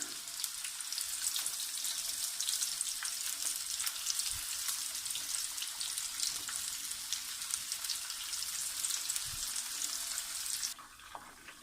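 Chicken wing pieces fry in hot oil a few at a time, giving a steady dense crackling sizzle throughout that drops abruptly near the end, with no talking.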